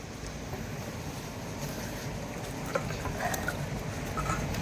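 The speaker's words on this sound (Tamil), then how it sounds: "இப்படி எண்ணெய் சூடாயிடுச்சு, அதனால அடுத்த சிக்கனும் போடுவோம்." Chicken frying in hot oil at an outdoor village cooking spot, a steady dense sizzle and hiss mixed with wind and open-air background noise, continuous with no talk.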